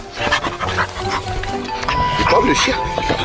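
A dog pants and makes low vocal grumbles close by, mixed under ongoing French conversation and background noise.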